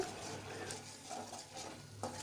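A spoon scrapes and stirs spicy mint rice masala frying in oil in a pan, with a soft sizzle under the repeated close stirring strokes.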